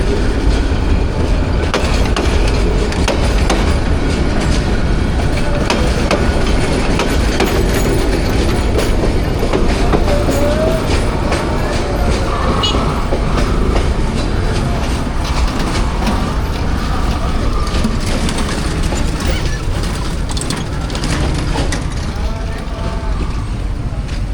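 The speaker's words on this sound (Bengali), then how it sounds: "যার কারণে ট্রেন স্লোলি পার হচ্ছে।" A train rumbles steadily with rhythmic wheel clatter, loud and close, slowly crossing a bridge under repair, a slow continuous rolling noise with faint voices underneath.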